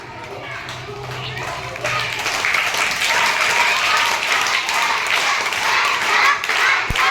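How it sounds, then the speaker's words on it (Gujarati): Schoolchildren playing a number-ordering game in a classroom clap their hands together, the clapping starting softly and then growing into a loud, busy patter of many small hands, with voices talking over it. "ફટાફટ તાળી મારો અને જાઓ"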